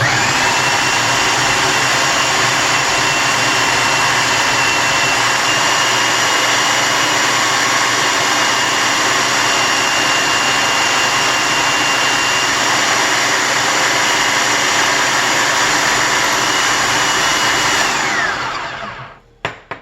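A loud kitchen mixer mixing pie crust dough whirs steadily for a long stretch at high speed, then winds down and stops near the end.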